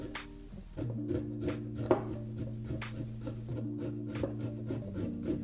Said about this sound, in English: So go ahead and start grating the carrot with the grater.